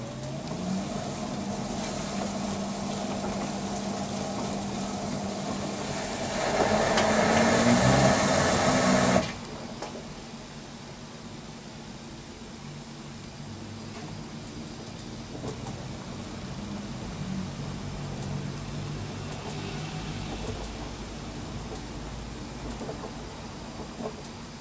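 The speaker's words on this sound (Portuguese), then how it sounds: "pode ver que ela começou bem devagarzinho, né, o tombamento, e foi acelerando aí." An LG VC2 AI DD 11kg/7kg washer-dryer (CV9011WC4) tumbles a double duvet in its drum, giving a steady mechanical whir and rumble that swells louder for a few seconds before settling back to an even drone, with no talking.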